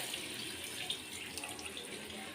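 Water pours steadily into a cooking pot of salted mutton and kohlrabi, a continuous close splashing stream without pauses.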